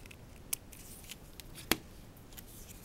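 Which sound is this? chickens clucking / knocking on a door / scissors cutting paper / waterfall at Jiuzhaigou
scissors cutting paper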